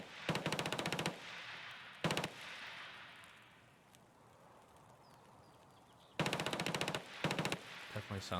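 In Escape from Tarkov, rapid bursts of player gunfire come in loud, sharp volleys near the start and again near the end, with echoing reverb between them and no talk.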